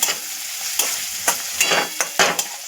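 Spoon stirring and sautéing a turmeric, salt and sugar mixture in a pan for poha, giving a series of soft, close scraping strokes over a low steady sizzle, with no talk.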